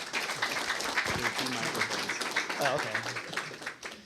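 Applause from an audience at a company meeting, moderate and fairly close, mixed with talking and voices over the clapping throughout.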